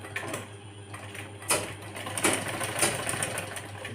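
A sewing machine stitches a strip along a frock's neckline, a continuous close mechanical hum with rapid needle ticking and a few sharper clicks.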